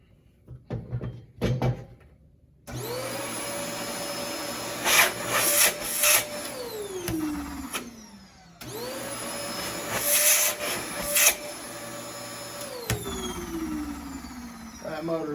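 A repaired vacuum cleaner motor spins up to a loud, steady whine, runs, winds down, then starts again for a second run, with handling knocks before the first start.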